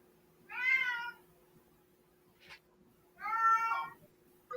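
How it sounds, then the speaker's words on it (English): A cat meows twice, two drawn-out calls a couple of seconds apart, fairly close and clear over a quiet background with a faint steady hum. "He got a cat."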